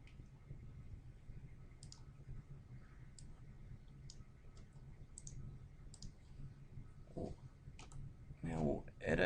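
Scattered light clicks of a computer mouse while modeling in Autodesk Inventor Freeform, faint and irregular under a quiet room hiss, followed by someone speaking near the end.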